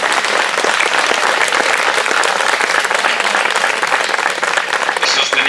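Audience applauding at an outdoor mass on Via Sant'Antuono in Passiano: loud, dense, sustained clapping from a large crowd, steady from start to finish with no pauses.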